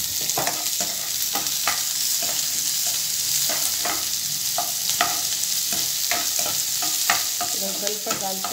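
Finely chopped medium onion frying with cashews in a hot pan gives a steady, close sizzle, broken by a series of sharp spatula taps and scrapes against the metal throughout.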